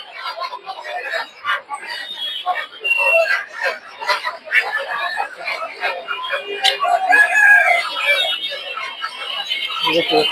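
Large tiger chickens in a crowded poultry market in Tongi, steady clucking and squawks from many birds nearby, with people talking throughout.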